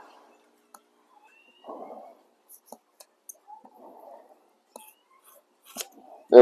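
Scissors snipping fiberglass cloth in a few short, quiet crunchy cuts separated by pauses, with scattered light clicks and handling noises.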